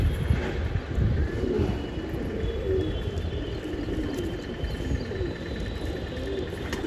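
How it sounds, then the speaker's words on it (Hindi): Red Siraji pigeons at a feeding spot, soft repeated cooing against a constant busy background, with no talk. "दोस्तों ये उड़ रहा अपना कबूतर,"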